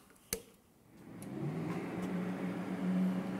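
A sharp click, then a steady loud electrical hum and drone builds and holds as a new 2021 Everlast Powertig 210EXT TIG welder powers up and runs continuously.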